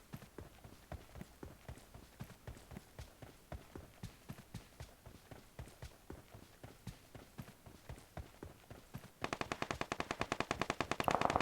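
Rapid gunfire in the video game PUBG Mobile, steady rhythmic bursts of shots throughout that grow louder and denser toward the end, with no talking.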